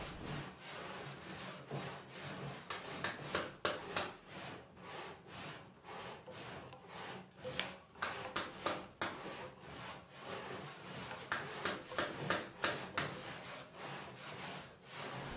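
A hand saw rasps through wood in steady back-and-forth strokes at a timber-frame carpentry site, close and fairly quiet, the rhythm quickening and slowing over a long stretch with no talking.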